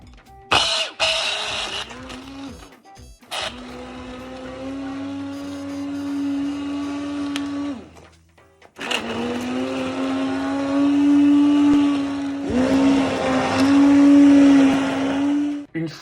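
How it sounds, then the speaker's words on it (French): An electric blender purees cooked Jerusalem artichoke soup, running as a steady whirring drone that stops briefly midway and then resumes louder, with its pitch wavering as the blades churn through the vegetables. "Maintenant, on va les mixer."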